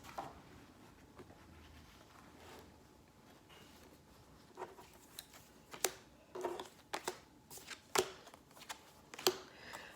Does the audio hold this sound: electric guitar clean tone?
no